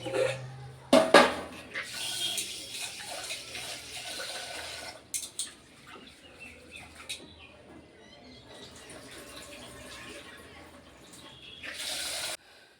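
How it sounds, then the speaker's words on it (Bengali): Rice grains are washed in water in a shared mess kitchen, with running tap water and sloshing, swirling splashes that rise and fall, along with a few louder bursts and faint background voices. "আর তার জন্য এখন আমি চালগুলো ধুয়ে নিই, তারপরে ভাতটা চাপিয়ে দেবো।"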